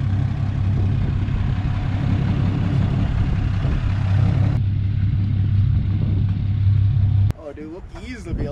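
A vehicle engine runs steadily while moving a trailer at a tree farm, a low continuous drone with speech over it, cutting off sharply near the end as a voice briefly takes over.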